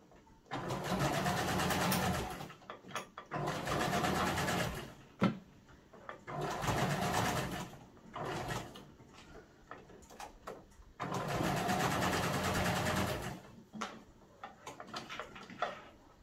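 A sewing machine top-stitches a peg bag seam in three long steady runs of rapid whirring stitches, separated by short pauses with small clicks and handling noises, close and fairly quiet with no talking.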